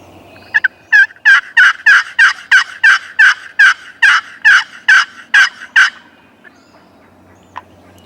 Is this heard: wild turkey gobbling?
yes